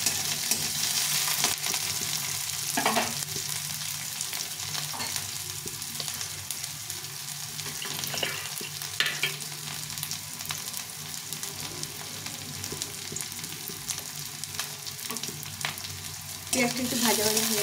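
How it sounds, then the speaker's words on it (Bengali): Chopped onions, cut fairly thick, sizzle steadily in a pan for an okra and onion fry, with occasional stirring scrapes breaking through the continuous frying hiss; no talking. "পেঁয়াজ কুচিটা একটু নেড়ে চেড়ে ভেজে দেবো, হালকা একটু নেড়ে চেড়ে ভেজে দেবো।"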